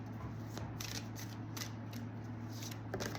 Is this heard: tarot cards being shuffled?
yes